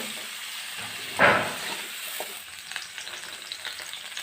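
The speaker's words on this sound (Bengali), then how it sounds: "এই সবজিগুলোকে একসাথে 4-5 মিনিট সময় নিয়ে ভালো করে নেড়ে চেড়ে ভেজে নিতে হবে" Mixed vegetables for Bengali shukto stir-frying in a pan, a soft steady sizzle with one brief louder hiss and scrape early on, then quieter stirring, close by and with no voices.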